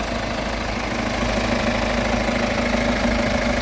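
A car engine idles steadily with its oil filler cap removed, a continuous mid-pitched hum with faint knocking texture running alone and close throughout.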